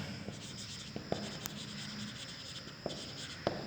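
Writing on a board produces faint, sparse taps and short scratchy marks over a steady background hum, close by, with no voices.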